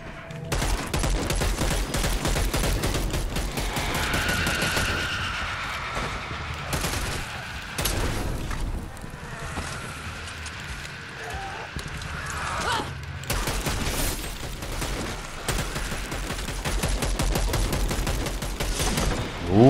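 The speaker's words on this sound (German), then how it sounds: "Ja, die Waffe, die ballert aber ganz anders." Gunfire from a weapon in the zombie game Dead Island 2, sustained rapid bursts of loud shots running nearly the whole time with brief pauses, amid game noise and a voice talking.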